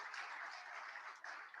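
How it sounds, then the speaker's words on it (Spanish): Church congregation applauding during a Spanish-language sermon, a dense, even patter of many hands filling the space, fairly distant and steady throughout. "Dar otro aplauso al Señor."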